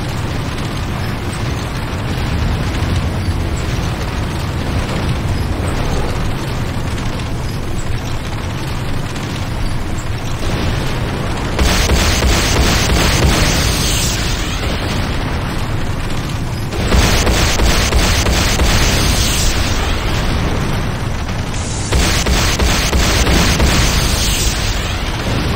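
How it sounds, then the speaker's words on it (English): Explosions boom in C&C Renegade as a Nod Tiberium Refinery is destroyed, a long run of heavy, loud blasts and rumbling bursts that surge in waves and keep rolling without pause. "Nod, Tiberium Refinery destroyed."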